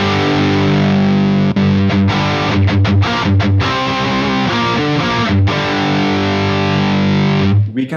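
Electric guitar played through a Soldano SLO-30 amplifier with no overdrive pedals, giving a thick distorted tone; loud chords and riffs with brief choppy stops ring continuously for about eight seconds.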